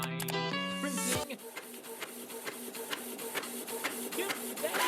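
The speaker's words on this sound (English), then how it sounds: "Printing!" A printer whirs and buzzes through its print cycle, opening with a loud tonal mechanical burst and then settling into steady rhythmic clicks and pulses, close and clear with no talk.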